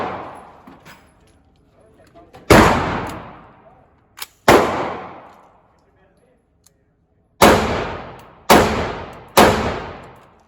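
PSA 18-inch rifle-length 6.5 Grendel rifle firing outdoors, five loud sharp single shots spaced irregularly, each followed by a long fading echo, with a faint small click between them.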